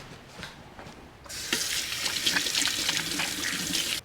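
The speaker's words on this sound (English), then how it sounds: "now I'm going to wash the paws" A kitchen sink tap is turned on and hands are rinsed under the running water, a close, steady gush that starts abruptly after a quiet moment and runs on without talk.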